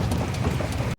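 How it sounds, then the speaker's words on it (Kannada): Heavy rain pours steadily on a road during a Coorg trip, a dense, loud, unbroken roar of drops with no voices. "ಸಿಕ್ಕಾಪಟ್ಟೆ ಮಳೆ ಬರ್ತಾ ಇದೆ"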